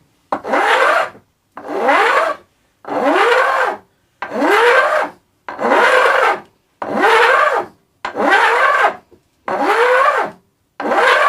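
Repeated rasping strokes shape the wood of a guitar body being built for charity, about ten even back-and-forth passes with short silent gaps between them, close and loud.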